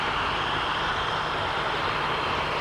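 A de Havilland Comet jet airliner with Rolls-Royce engines buried in the wing roots flies past at an air show, giving a steady, loud, broadband engine roar that holds unbroken throughout.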